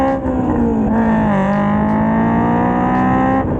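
Honda S2000 with an EVS Tuning single exit exhaust: a loud, raspy exhaust note holding a steady pitch that dips and climbs slightly, close up, with no talking.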